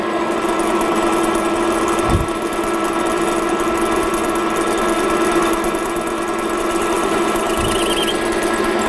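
A metalworking lathe runs steadily, giving a loud, even motor hum with a faint high whine and a couple of soft low thumps. It continues without pause, and no voices are heard.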